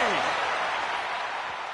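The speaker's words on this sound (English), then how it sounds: "do you hear this capacity crowd?" A large arena crowd in a WWE 2K25 wrestling video game roars and cheers continuously, a dense wash of noise with a brief falling tone at the start.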